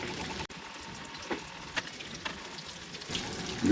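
Chicken pieces for Mongolian chicken fry in a hot pan with a continuous crackling sizzle and a few sharp stirring knocks and scrapes.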